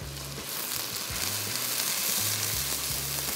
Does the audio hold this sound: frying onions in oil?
yes